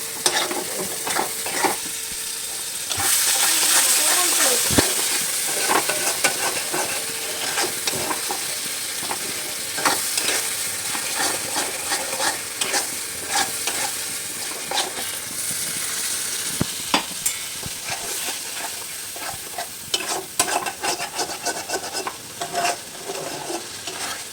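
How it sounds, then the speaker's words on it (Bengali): Curry cooks in oil, with a continuous loud sizzle and repeated spoon scrapes and clatters against the pan as it is stirred steadily over about twenty-four seconds. "তেল না ছাড়া বেরোনো অবধি ভালোভাবে কষাবো।"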